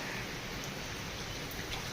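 Rain falls as a steady, dense hiss of drops that stays even and unbroken, heard alone with no voices.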